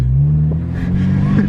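A Honda K20 engine swapped into a salvage Civic revs under load, a loud steady drone with rising tone and small fluctuations, heard up close.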